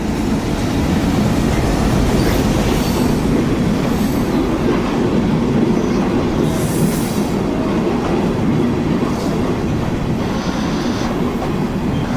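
The Benapole Express train rumbles loudly and steadily, wheels clattering on the rails with faint squeals, as it rolls into a station platform.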